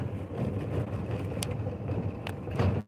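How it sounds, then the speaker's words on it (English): A big truck drives along the road, a steady low engine rumble close by with a couple of brief higher clicks, continuous throughout. "In a big old truck, switching big old lanes"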